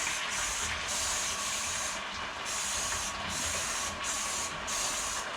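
Foam soap sprays onto a mousepad in short regular hissing bursts over a steady background rush of running water, close and fairly loud.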